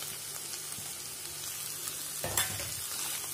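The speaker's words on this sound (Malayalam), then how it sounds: "ഇതൊക്കെ നന്നായിട്ടൊന്ന് മിക്സ് ചെയ്ത് കൊടുത്തിട്ടുണ്ട്" Mashed boiled potatoes being stirred into sautéed vegetables in a pan for vegetable cutlets, a steady low sizzle with one brief louder scraping stir near the end, no talking.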